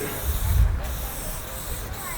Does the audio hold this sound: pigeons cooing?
no